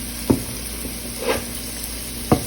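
Onion and pepper sauté in a pan with a steady low sizzle and a few soft stirring scrapes and clinks.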